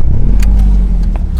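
A BMW Z3 roadster's engine rumbles low and steady at close range, its idle thickening into a brief rev, with a few light clicks and rattles riding on top.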